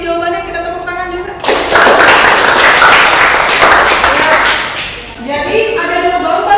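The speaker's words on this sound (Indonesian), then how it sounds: "kita tepuk tangan juga." A school class claps together in a classroom, a dense burst of hand clapping lasting several seconds between stretches of a teacher speaking.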